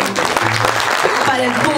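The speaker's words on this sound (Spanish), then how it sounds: "a los músicos ahora voy a pedirles por favor un aplauso" Musicians at a gala concert applaud the audience: a brief burst of clapping heard close and full, with sustained tones and a voice mixed underneath.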